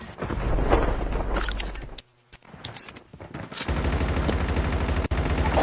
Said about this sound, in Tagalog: Pagkapulot ko ng baril, pinutukan ko agad.